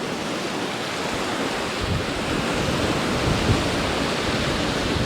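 Waves wash onto a beach on the Isle of Wight in a steady broadband roar mixed with wind buffeting the microphone, with no talking.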